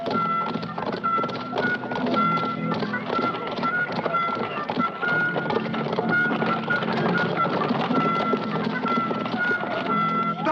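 Horses clip-clopping in a 1963 Hercules film, a busy, continuous patter of many hooves at a trot with a tonal ringing layer, fairly loud and unbroken, no talk.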